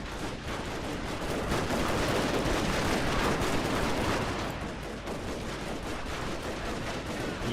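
Dense, sustained machine gun fire from four guns in Total War: Shogun 2, firing at a mass of 1200 spearmen: a continuous loud rattle of overlapping shots with no break across the whole stretch.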